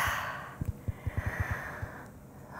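Forceful exhales during a yoga breathing sequence, a series of short, sharp breath bursts in steady rhythm, close and alone with no talk.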